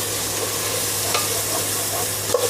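Tomatoes frying in oil for vegetable biryani are stirred, giving a steady sizzle with a few scraping spoon strokes, close and alone.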